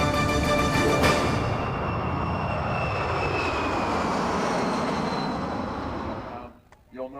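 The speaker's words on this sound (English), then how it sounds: "C-17 is especially good on short runways and unprepared strips" A C-17 military transport aircraft at an air show makes a loud, steady engine roar that holds for several seconds, then fades and drops away near the end.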